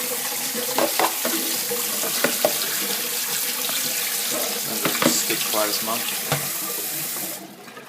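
Cold tap water runs over cooked pasta in a kitchen sink, a steady close splashing stream with small clatters, while a person speaks briefly; the flow cuts off near the end.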